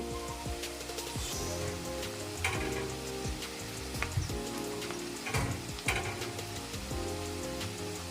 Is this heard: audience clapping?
no